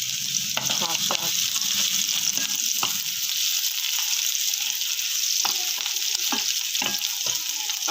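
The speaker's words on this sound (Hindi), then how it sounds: "अब जैसे ये फ्राई होगा फिर हम इसमें ज़ीरा डाल देंगे" Whole round dried red chillies fry in oil in a pan with a steady, close sizzle. Sharp scrapes and taps from a stirring spoon break in repeatedly, and there is no speech.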